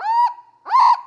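A cockatoo gives two loud, strident calls with a short gap between them, the second harsher and more ragged, close up with no other sound around.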